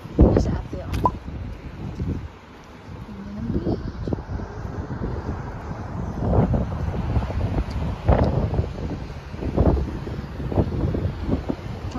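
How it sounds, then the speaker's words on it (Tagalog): Strong wind buffets the microphone outdoors on a cold walk, with gusty rumbling bursts rising and falling throughout while people talk over it. "It's very windy."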